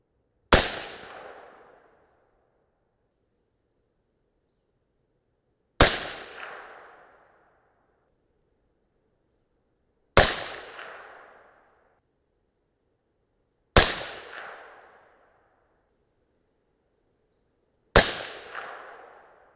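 A rifle fires .223 Remington handloads with 77-grain Sierra MatchKing bullets and VihtaVuori N540 powder: five loud, sharp shots come evenly spaced about four seconds apart, each with a short decaying echo between long silences.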